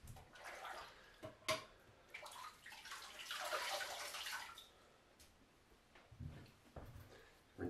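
Water splashing as a face is rinsed after a shave with a RazorMaster Toivo razor, faint irregular splashes and dripping with a longer wash in the middle, no voices.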